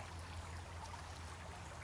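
A small creek where a coho salmon project runs, trickling steadily with a soft, continuous watery hiss and no voices over it.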